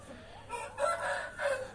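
Growing young chickens on a small farm, a few short raspy crowing and clucking calls close by, without speech.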